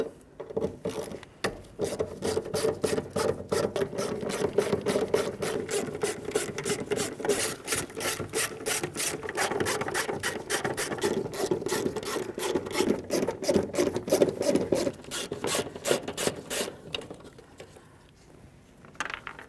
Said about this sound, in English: we're going to continue on by removing all 8 of our mounting nuts that hold this bracket down